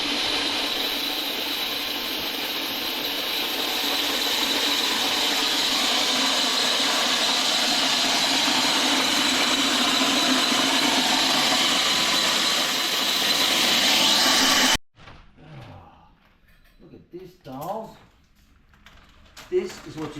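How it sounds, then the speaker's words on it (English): A corn cracker machine grinds and cracks dried corn, a loud continuous mechanical rattle and whir running steadily for about fifteen seconds before cutting off abruptly, followed by quieter sounds and a voice. "I'm going to crack some corn before breakfast"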